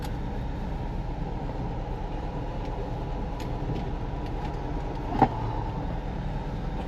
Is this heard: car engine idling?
yes